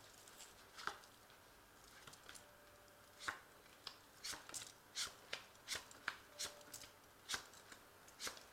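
A tarot card deck being shuffled and cut at a reading table: quiet, crisp riffling snaps and taps in an irregular series, growing busier toward the end, with no talking.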